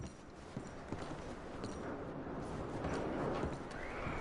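Horses in a video game walk with soft, irregular hoof clip-clops over faint ambient noise, the steps steady and moderately close.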